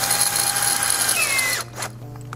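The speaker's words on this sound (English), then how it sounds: "we gotta drill a hole in the top of this cap so that our handle can slide up and down through it" A power drill bores a hole through the top of a PVC cap, a loud steady whine with a brief pitch shift before it cuts off, followed by a short rattle, close and alone.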